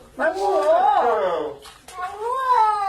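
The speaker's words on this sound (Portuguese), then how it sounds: "Esse gato tava tomando banho, mas ficou magoado" A cat meows after being given a bath, two long drawn-out wavering cries close up, the first more strained and the second after a brief pause.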